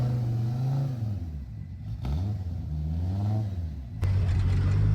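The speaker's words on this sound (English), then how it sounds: "going out for a little test drive in the A2 Group B Audi Quattro" Genuine 1980s Group B Audi Quattro A2 rally car engine revving on a test drive, its sustained engine note rising and falling through several pitch sweeps with a sharp change near the end.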